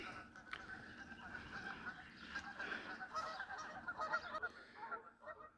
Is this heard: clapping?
no